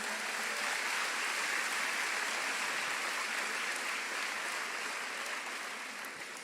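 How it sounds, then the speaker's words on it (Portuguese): Sustained applause from a church congregation at a worship service, a steady dense wash of clapping that holds at a moderate level throughout and tapers slightly near the end, with no talking over it. "Você pode aplaudir o Senhor por isso?"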